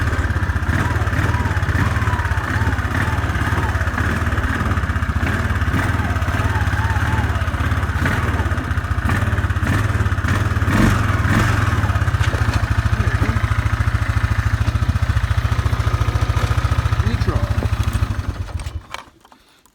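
A Kawasaki Bayou 400 ATV engine runs steadily at a loud, close, even idle for most of the time, then cuts off abruptly near the end.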